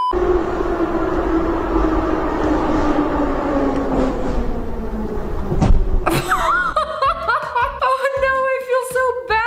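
A subway train rumbles steadily as it rides along, a continuous low roar, followed by people talking and laughing close by.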